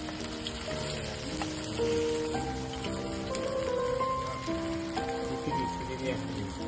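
Rain falls steadily as a continuous patter throughout, with faint tonal sounds drifting over it and no clear talk.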